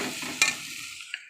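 Spice paste frying in a pan while being stirred, a soft steady sizzle with a couple of sharp scraping clicks from the spoon, close and fairly quiet.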